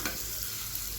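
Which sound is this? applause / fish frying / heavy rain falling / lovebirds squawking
fish frying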